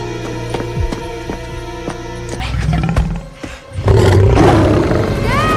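A lion roars loud and close, a deep, rumbling roar that swells and fills the second half after a humming, rising buildup.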